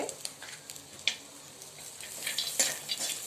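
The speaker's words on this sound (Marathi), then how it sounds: "छान परतून घेऊया" Onion, ginger and cashews sauté in a pan with a soft continuous sizzle, punctuated by scattered spatula scrapes and clinks against the pan, close and moderately loud, no talking.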